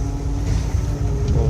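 A Mack dump truck hauling loads at a rock crusher site runs loud and close, with a deep, steady engine drone and low rumble and no talk over it.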